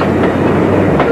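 A loud, close train rumbles past with steady rolling wheel noise and two faint rhythmic clacks over the rails.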